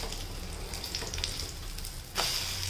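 An egg cutlet fries in a pan with a steady close sizzle and crackle throughout, and a sharper burst of hissing near the end.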